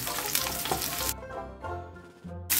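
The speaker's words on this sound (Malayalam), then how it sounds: "രണ്ട് പച്ചമുളക് അങ്ങ് ഇട്ടു. എന്നിട്ട് ഇതൊന്ന് ചെറുതായിട്ടൊന്ന് വഴട്ടിയെടുക്കാം." Slit green chillies sauté in a pan on low flame with a loud, close sizzle that fades and returns as they are stirred, with faint hisses between bursts.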